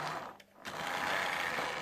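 Electric motor of a model train locomotive, a noisy runner, giving a steady buzzing whir with a brief dip, close up and without talking.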